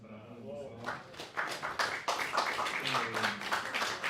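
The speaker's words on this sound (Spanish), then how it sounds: "primero un aplauso también para Rubén, por favor." Audience applause at a book presentation in Uruguay, with a dense patter of clapping building after the first second and continuing steadily while voices talk over it.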